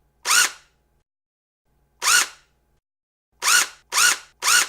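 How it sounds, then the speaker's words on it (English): A power drill whirs in five short bursts with a rising then falling pitch, the first two spaced well apart and the last three quick together, with silence between. "that is the sound of a power drill"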